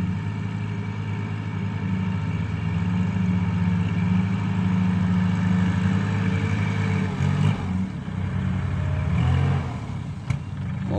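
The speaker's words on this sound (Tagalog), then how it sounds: "traktor ang naghakot ng ani" A tractor carrying a rice harvest across a muddy paddy field beside the dikes, its engine running as a steady, loud, continuous drone with a deep rumble and a brief surge near the end, with no voices.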